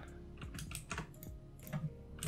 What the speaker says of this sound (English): if I hit R on the keyboard, I could just start rotating these by 30 degrees each